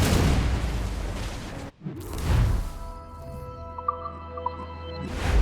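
Ship cannons fire in a naval battle in Assassin's Creed Rogue: loud, rumbling booms roll out in two heavy bursts, then settle into quieter sea and ship ambience with small knocks.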